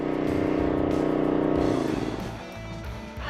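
Predator generator engine running with a loud, steady harmonic drone that drops and settles into a rougher, quieter idle after a couple of seconds; a voice speaks over it.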